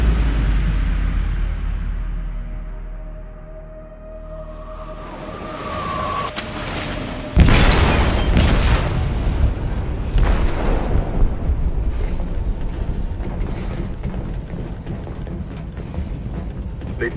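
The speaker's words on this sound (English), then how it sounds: "They detonated an explosive in the hold." An explosive detonates in a ship's hold in the game Detroit: Become Human, a sudden loud boom that gives way to a long, heavy roaring rumble and churning noise.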